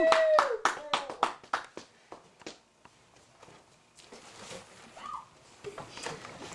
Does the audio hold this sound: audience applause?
yes